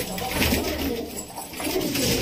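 Pigeons coo continuously in a breeding loft of high-flying birds, several soft throaty calls overlapping close by with no talk.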